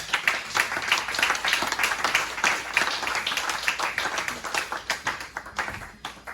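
A church congregation claps in a steady, rhythmic beat during a worship service, a dense crowd of sharp hand claps with little talk.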